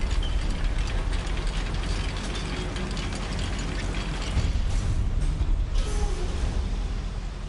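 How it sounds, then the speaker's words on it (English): Mechanical lift gears in a Harry Potter video game, set in a goblin mine, turn with a steady ratcheting clatter. Busy grinding clicks run continuously throughout at moderate, even loudness. "Look at this lift. Impressive workmanship for so simple a device."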